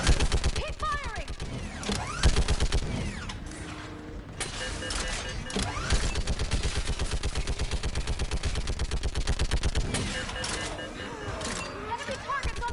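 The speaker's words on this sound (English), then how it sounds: "Keep firing!" Gunfire in Mass Effect 3, rapid automatic bursts rattling loudly and almost continuously, with shouted voices and mechanical clanks mixed in during a hectic firefight.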